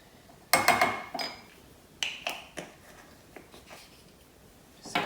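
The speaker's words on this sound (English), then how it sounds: "Give that a quick stir, because you want it mixed together." A spoon clinks and scrapes against a bowl while cinnamon is stirred into a mixture for overnight cinnamon buns, with several sharp, separate taps spread across a quiet room.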